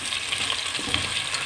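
Potatoes frying in ghee for aloo kadhi give a steady, close sizzle with soft crackles and faint stirring scrapes throughout, with no talking.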